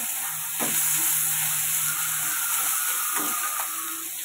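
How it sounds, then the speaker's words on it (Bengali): Chopped tomato sizzling in hot oil in a pan, a steady bright hiss throughout with a few scraping clicks from stirring, close and alone without talk. "এবার টমেটো কুচিটা দেবো, ওটাও নাড়িয়ে নেব তেলের সাথে ভালো করে।"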